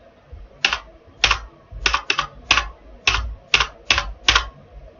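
Computer keyboard typing while working in Tally ERP9 accounting software: about ten crisp, distinct keystrokes in an uneven rhythm, close and clear over quiet background, with no talking.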